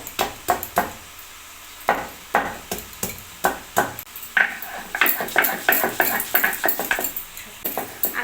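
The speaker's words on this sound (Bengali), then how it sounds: "আর আমি এখানে একটু মশলা বেটে নেব। এখানে আমি নিয়েছি আদা" Ginger is ground into a spice paste by hand in rhythmic back-and-forth strokes, about twenty scraping knocks that speed up and grow denser, close and clear.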